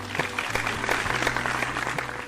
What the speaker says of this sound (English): Give him a round of applause for being here.